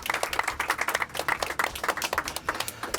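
A crowd claps steadily in warm, sustained applause with no voices over it.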